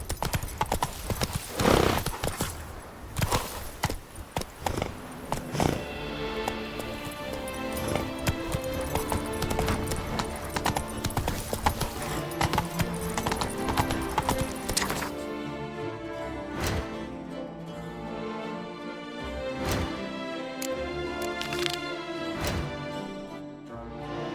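Horse hooves clip-clop at a steady trotting rhythm in the video game The Witcher 3: Blood and Wine, close and prominent, with rumbling game sounds around them.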